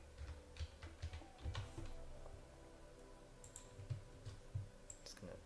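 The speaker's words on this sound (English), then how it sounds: "I'm gonna type some text over the image." Faint, sparse clicks of typing on a computer keyboard sound in a quiet room, coming in short irregular bursts of keystrokes with pauses between.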